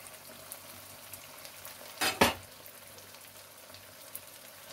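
Garlic slices fry with softened tomato in a pan, a low steady sizzle broken by one loud burst of crackling splatter in the middle, with no voices.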